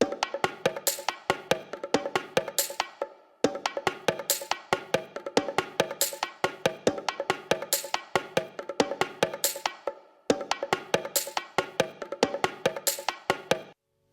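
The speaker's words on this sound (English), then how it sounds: "The percussion is just a bongo loop that I've chopped up and rearranged" A chopped and rearranged bongo loop plays alone as a fast, busy pattern of crisp hand-drum hits, repeating in short looped phrases with brief gaps between sections.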